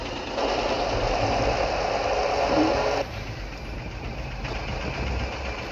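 A repaired MTZ-82 tractor engine runs steadily near at hand with a loud, even rumble whose pitch drops partway through, with no voices.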